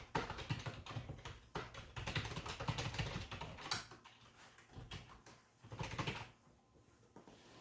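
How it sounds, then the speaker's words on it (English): Quiet typing on a computer keyboard, a quick irregular run of soft key clicks with short pauses, heard alone at low level. "here's where you type in the URL, account, and password"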